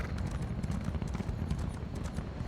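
Horse galloping in the video game Elder Scrolls Online, a quiet, rapid run of hoofbeats repeating over a low rumbling bed, alone without talk.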